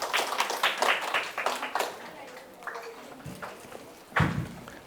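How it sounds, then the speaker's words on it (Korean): Lecture-hall audience claps to welcome a visiting doctor giving a science talk on cryogenic fluids and zero gravity in Daejeon. A burst of separate handclaps fades into scattered taps, with a louder thump near the end. "박수로 맞이해주세요"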